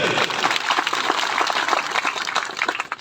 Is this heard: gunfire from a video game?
no